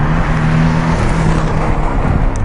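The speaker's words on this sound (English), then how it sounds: "So I've got a sports exhaust, and I've got a sports exhaust on. Does that sound like a sports car to you?" A Porsche 718 Boxster S fitted with a sports exhaust roars loudly and steadily from close by, a dense engine note with no voices over it.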